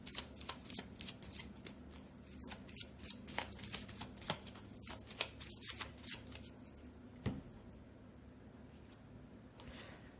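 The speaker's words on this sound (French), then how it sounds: "ce que je vais faire, c'est quand même mettre une carte au-dessus." Oracle cards shuffled by hand, giving soft, riffling flutters and light slaps in an uneven rhythm, close and quiet, with faint talk barely present.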